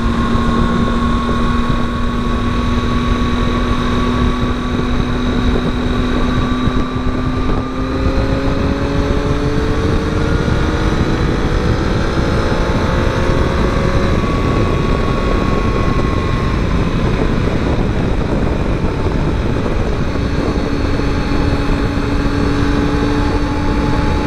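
A 2020 Triumph Tiger 800 motorcycle engine drones steadily while riding on a busy highway, its pitch shifting with speed, heavily mixed with constant wind roar across the microphone.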